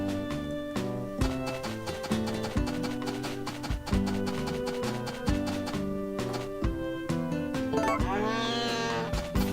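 Cows mooing in the video game Harvest Moon: A Wonderful Life, loud repeated moos over a rhythmic, bouncy game music track, with no talk.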